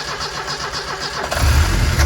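A barn-find Ford Escort RS Turbo S2 cranks briefly, then its engine fires and catches, settling into a loud, close, rumbling idle with no talking.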